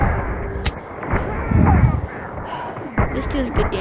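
Blaster rifle fire from a video game, the CJ9 BO model: booming, roomy shots with a sharp crack near the start and more blasts toward the end, over continuous game noise, with no voices.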